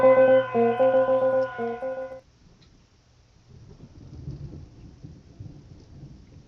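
Rumbling thunder from a strong thunderstorm in Australia, a low, uneven roll rising and fading over several seconds, heard after a harmonic tone ends.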